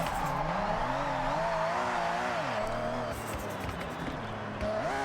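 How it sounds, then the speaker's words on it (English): A car drifts in the Forza Horizon racing game, its engine note rising and falling as the throttle is worked while tires squeal continuously through the slide, loud and steady with faint talk beneath. "And then once that car starts to slip, just give it a bit of gas to make it turn in more."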